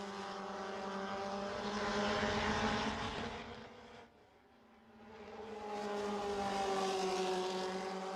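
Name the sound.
race cars accelerating through a right-hand corner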